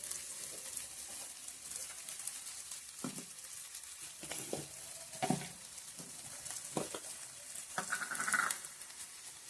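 Onion frying in a pan gives a faint, steady sizzle, broken by a few soft clinks and scrapes of stirring.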